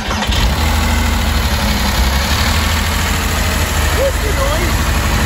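A faulty Porsche Cayman S 3.4 engine runs steadily with a loud, constant low rumble and rattle close to the microphone, while people talk over it.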